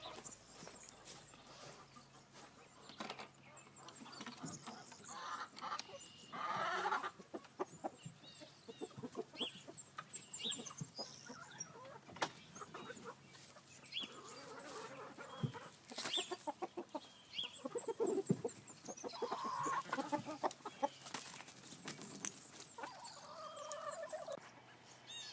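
Two flocks of chickens being merged cluck and squawk together on a farm at chore time, with busy overlapping calls from many birds at close to middling distance throughout.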